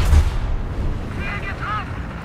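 A Tiger H1 tank fires its cannon in War Thunder, a single heavy low boom at the start that rumbles away into engine noise, followed by short voice-like sounds.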